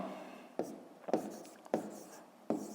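Handwriting during a fifth-grade math exercise, with four quiet, close scratchy strokes at irregular intervals and soft continuous rubbing between them.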